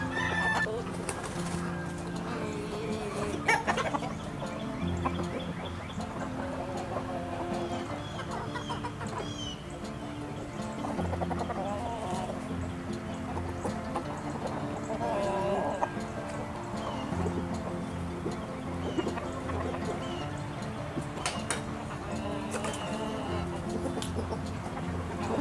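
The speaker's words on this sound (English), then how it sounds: "My impatient chickens, because I'm not working fast enough for them." Impatient backyard farm chickens clucking steadily throughout, with an occasional rooster crow, close and continuous under faint background talk.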